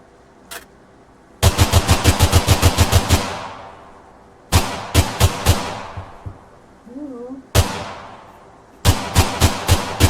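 Rapid AK rifle bursts ring out in a driving survival game, loud, close bursts of fast evenly spaced shots separated by short pauses, with a brief mid-pitched tone between volleys.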